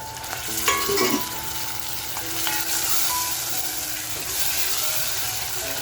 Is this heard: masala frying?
yes